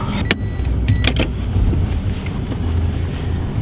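A Mitsubishi Pajero backs out of a parking space, heard from inside as a low, steady engine and road rumble, with a couple of short beeps and light clicks early on, fairly loud and continuous.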